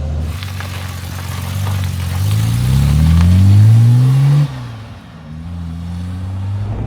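A Series 1 Jaguar E-Type, not yet fully warmed up, accelerates away with a loud rising engine note through the gears, then drops to a steady idle-like hum; no talking.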